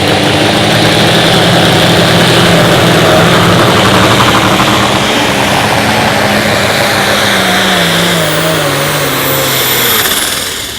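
An 8,500-pound light limited pro stock pulling tractor roars loud and steady through a pull at an outlaw event in Wisner, Nebraska, its heavy engine droning continuously with the pitch sagging slowly toward the end.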